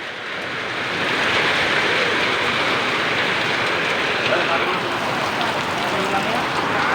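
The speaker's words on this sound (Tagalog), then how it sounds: "Yung ulan na yan." Steady, heavy rain pours down in a continuous broadband hiss that builds in the first second and stays loud throughout.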